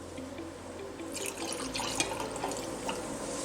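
Water and ethanol pour and splash into a container, a running trickle with a few louder splashes and clinks midway, no voices.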